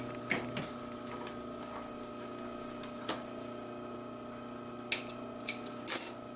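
A sewing machine stitches the hem of a pair of jeans, a steady mechanical hum with light ticks and clicks and a brief louder whir near the end; no one speaks.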